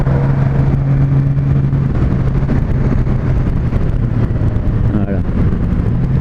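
A 2018 Honda Goldwing bagger motorcycle engine pulls in fifth gear at road speed, a steady deep drone mixed with heavy wind rush across the whole stretch.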